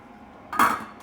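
A lid drops onto a pot of borscht on the stove with one short metallic clank, a sharp clatter that quickly rings out against quiet kitchen background.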